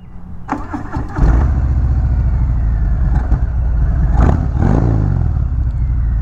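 A 2019 Harley-Davidson Fat Bob motorcycle engine cranks briefly, then catches at about one second and settles into a loud, steady, deep-throated idle that swells slightly mid-clip, with no talking.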